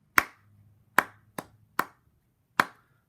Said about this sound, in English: So I am going to clap 2 measures in 4/4